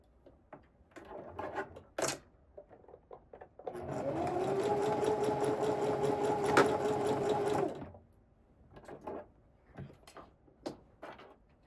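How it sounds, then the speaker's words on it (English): A sewing machine runs in one continuous burst of about four seconds, stitching across a fabric tie for a top, framed by quieter handling clicks and fabric rustles before and after, with no talking. "Now we're gonna take our tie over to the sewing machine and we're gonna sew across"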